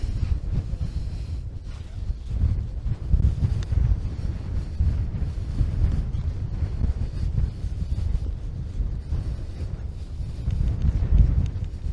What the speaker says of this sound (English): put that there because it's very windy